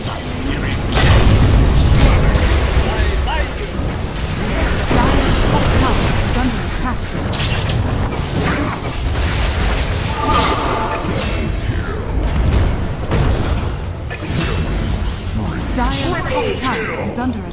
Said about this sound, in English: Dire's top tower is under attack.